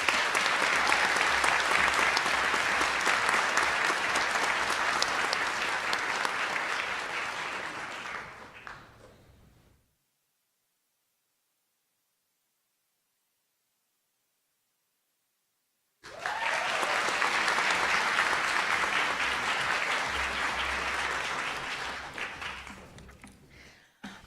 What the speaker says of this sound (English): round of applause for Brittany Whiting